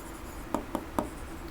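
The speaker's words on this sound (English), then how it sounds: "we'll write the examples" Three separate taps or short strokes of writing on a board, sharp and close, spaced roughly a quarter second apart against a steady room hiss with no voices.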